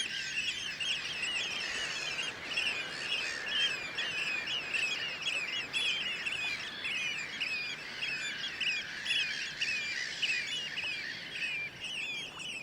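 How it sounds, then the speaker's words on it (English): A large flock of oystercatchers calls continuously across a winter estuary on the Dee, a dense chorus of sharp, piping shrieks overlapping at a distance over a steady wind-like background hiss. "When the tide begins to fall, the oystercatchers leave their roost and head back to the re-emerging mud."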